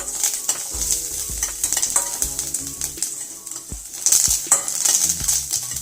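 Green pepper and curry leaves sauté in hot oil for a village-style tomato rasam, with a steady sizzle broken by repeated scraping and stirring strokes of a spatula against the pan, close and fairly loud.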